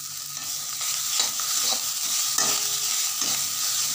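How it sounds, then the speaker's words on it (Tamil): Cooked rice being stirred and turned in a pan with sautéed betel leaves for betel leaf rice, giving a steady close scraping and rustling with a faint sizzle throughout. "இந்த வதக்கின இந்த வெத்தலையோட சாதத்தை புரட்டிட்டு"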